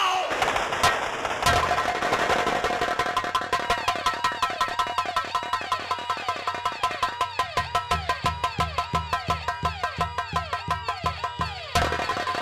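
Stage gunfire effect in a Nautanki folk drama performance: a long, fast, steady rattle of loud machine-gun-like shots runs for several seconds, then stops abruptly.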